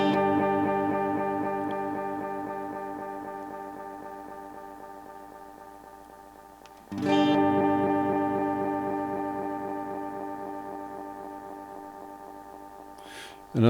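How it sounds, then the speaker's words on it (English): A First Act delay pedal feeds back into sustained guitar repeats that pile up and turn crunchy and distorted, the smeared echoes swelling again midway and fading slowly with a faint hiss beneath. "you can hear the repeats get crunchy."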